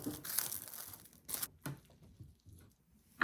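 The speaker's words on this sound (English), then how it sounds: "Cover a small bowl with plastic wrap." Plastic wrap is pulled off the roll and torn to cover a small kitchen bowl, with quick crinkling and ripping bursts near the start, then fainter rustles trailing into quiet.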